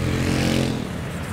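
Street traffic in Paris, with motorcycles and buses, roars loudly and close by in a continuous engine drone that eases slightly toward the end, with no talking.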